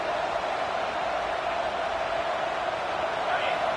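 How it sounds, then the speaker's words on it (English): Football stadium crowd noise at a week zero game, a loud continuous roar of many voices blending into a steady wall of sound with no single voice standing out. "This crowd bringing the energy and noise early."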